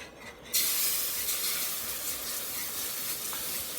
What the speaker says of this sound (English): now we're going to slowly add in 3½ cups of hot evaporated milk.